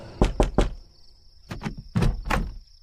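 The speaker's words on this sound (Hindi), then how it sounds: "दरवाजे पर एक दस्तक हुई" Knocking on a door as a sound effect in a Hindi horror audio drama: three quick knocks, a pause, then two more groups of firm, close thuds.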